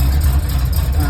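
A Pontiac Firebird Trans Am engine idling close by with flushing oil during an oil change, a low steady rumble with a slight uneven pulse.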